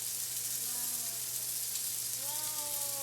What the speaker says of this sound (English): Listen to the sizzling sound.